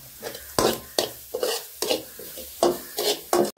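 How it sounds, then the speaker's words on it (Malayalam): Grated coconut is roasted for theeyal in a chilli-roasting pan, stirred in about eight brisk, close scraping strokes at an irregular pace, each a short rasp with light sizzling underneath. "ഞാൻ രാവിലെ മുളക് വറുത്ത ചട്ടിക്കത്തിലോട്ട് തേങ്ങ ആദ്യം ഒന്ന് തീയലിന് വറുത്തെടുക്കാം"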